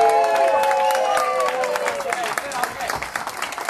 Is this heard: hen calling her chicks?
no